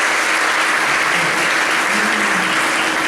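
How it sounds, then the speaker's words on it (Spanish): Dense, continuous audience applause fills the hall at an awards gala, loud and even from start to finish with no voices over it. "Bueno, podéis aplaudir"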